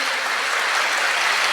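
Students applauding together at a school event, a steady wash of many hands clapping continuously for about a second and a half, with no voices on top.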